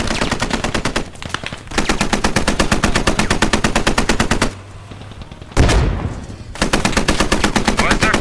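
Loud bursts of rapid automatic machine gun fire ring out in the military shooter game Squad, with sustained strings of shots broken by a short pause and a sharp blast before firing resumes.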